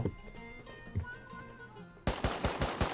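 AK rifle gunfire in the video game Rust, first a few faint shots, then a loud, rapid burst of closely spaced shots in the final second.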